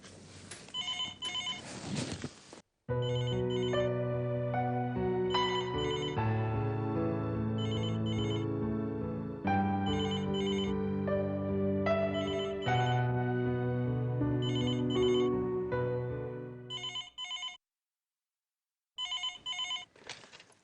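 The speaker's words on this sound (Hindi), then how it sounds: "उन्हीं का फोन होगा" A mobile phone ringtone plays a loud, melodic chiming tune for about fifteen seconds in a quiet room, with brief rustling before it and a short resumed burst after a pause.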